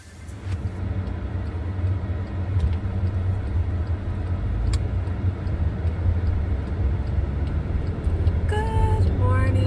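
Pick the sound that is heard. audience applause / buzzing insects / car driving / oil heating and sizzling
car driving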